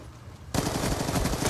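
Rapid automatic gunfire in the video game Black Ops 2 bursts in suddenly after a quiet moment, a loud, dense, continuous rattle of shots with no voices over it.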